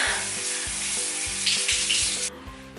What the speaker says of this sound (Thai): งานห้องน้ำอีกแล้วนะก็ไม่พ้นงานฝักบัวนะคะ